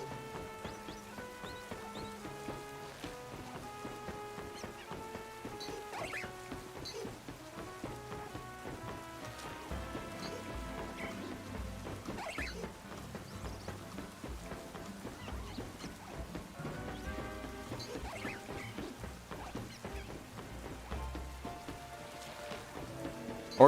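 Steady rain falls in Pokémon Legends: Z-A, a soft continuous patter with occasional low thunder-like rumbles, heard beneath layered game music with melodic tones throughout.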